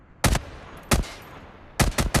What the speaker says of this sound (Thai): ผมลืมให้ทุกคนฟังเสียงปืนแบบเพียวๆว่ะลองฟังดูนะครับ